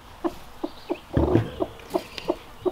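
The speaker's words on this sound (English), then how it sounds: "There's that darn Brody hen." A hen clucks in short, evenly spaced bursts, close by, with a brief louder squawk in the middle.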